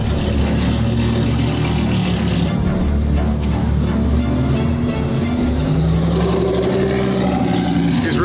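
A McLaren Senna in Corsa race mode idles and revs, its engine giving a loud, continuous low rumble with rising and falling pitch sweeps as the revs climb and settle.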